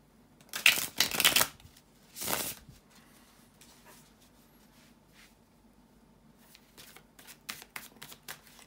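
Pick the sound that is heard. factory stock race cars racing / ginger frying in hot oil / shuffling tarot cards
shuffling tarot cards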